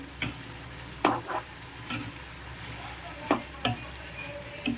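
Tomato pieces being stirred into a simmering bitter gourd curry: a soft background sizzle broken by sharp, intermittent spoon-against-pan scrapes and clicks, close by, with no talking.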